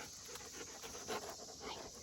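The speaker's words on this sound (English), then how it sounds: "She's our farm dog" A farm dog pants steadily at close range, a soft rhythmic breathing that runs the whole stretch with no voices over it.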